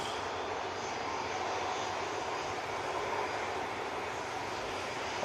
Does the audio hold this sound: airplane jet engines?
yes